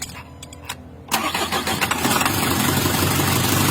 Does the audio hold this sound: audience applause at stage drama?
no